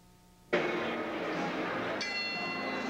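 A boxing ring bell signals round two of a heavyweight bout: a sharp metallic strike rings out loud, then a second strike follows about a second and a half later, each leaving a long sustained ring.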